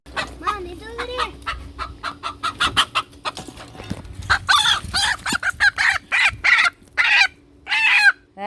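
Chickens cluck in a rapid series of short, loud calls close by, with a rooster-like crow mixed in and faint background sounds between the bursts.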